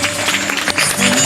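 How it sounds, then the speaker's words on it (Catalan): A school graduation audience gives loud applause to young children, a brief dense burst of clapping with some crowd noise mixed in. "donem la benvinguda amb un fort aplaudiment a aquests nens i nenes de P5."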